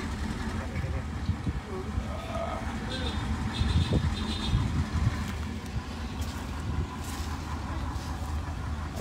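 A Zoomlion sugar cane harvester works nearby in a field in Alitagtag, Batangas, its steady engine rumble running continuously under people talking.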